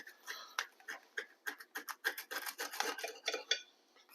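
A knife saws crosswise through a grilled, pressed Cuban sandwich in a quick run of crunchy, scraping strokes on a crisp crust, close and fairly quiet, with no talking.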